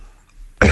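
A single loud, close cough bursts out after near silence, short and harsh, with no talking around it.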